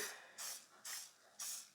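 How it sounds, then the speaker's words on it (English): Cooking spray is spritzed onto a cake pan in three quick, separate hissing bursts with short quiet gaps between them, close and fairly soft. "You're just going to want to spritz your pan"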